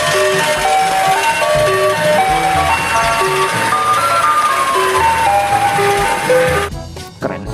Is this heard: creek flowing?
no